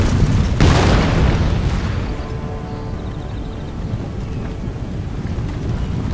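A heavy cannon boom erupts in an Empire: Total War battle, then rolls off into a long rumbling decay with wind-like noise beneath.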